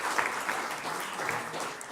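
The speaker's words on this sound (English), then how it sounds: "So I just want to give a round of applause to my parents." An audience claps at a Sunday church service, a dense steady patter of applause lasting the whole couple of seconds at moderate distance.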